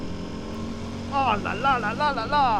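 A KTM Super Duke 1390 motorcycle in track mode revs hard in several rising surges that build after a steady idle-like drone, close and loud, with a rider's excited exclamations over it.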